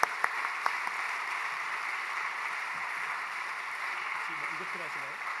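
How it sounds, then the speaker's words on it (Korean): A church congregation at a Wednesday prayer meeting welcomes a missionary with applause that sounds distant and soft. A few sharp claps stand out at the start, then a steady wash of clapping continues, with a low voice coming through near the end. "큰 박수로 환영해 주시기 바랍니다."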